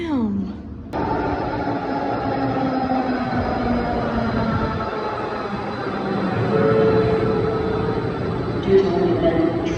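A light rail train rolls along the line with a steady rumble and rising, shifting tonal whine, sounding close and continuous for about ten seconds, with speech over it.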